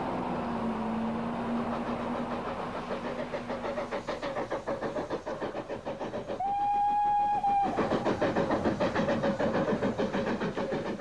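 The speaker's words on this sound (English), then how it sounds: "The train then climbed Tenterden Bank to the terminus of the line at Tenterden." A train on a heritage railway line climbs Tenterden Bank toward the terminus at Tenterden, with steady rhythmic wheel and engine chuffing throughout and a loud, sustained whistle blast partway through.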